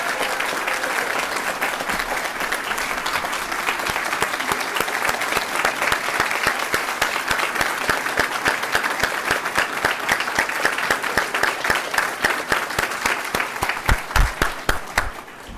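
Applause from an audience at an elementary school ribbon cutting ceremony, dense and steady, then thinning toward the end into a few louder, distinct nearby claps.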